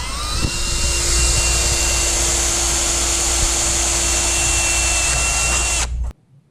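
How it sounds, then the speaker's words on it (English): A power tool spins an abrasive stripper disc against the pinch weld of a race car's front end, taking the paint off. It gives a loud continuous high whine and grinding close by for about six seconds, then cuts off sharply. "So we're stripping the paint off the pitch weld so we can get the welding done."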